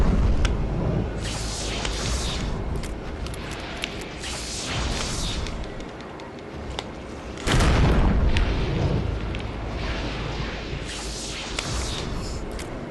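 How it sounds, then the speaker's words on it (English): Shotgun blasts against horrors in the Eternal Darkness video game: loud booming shots, with a sharp, heavy blast near the middle standing out over a dense rumbling game backdrop. "Let's test out the shotgun."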